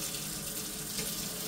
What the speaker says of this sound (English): I guess I better run the water just in case he does it again.